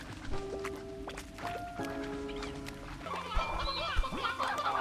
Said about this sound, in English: let's cull the chickens a little bit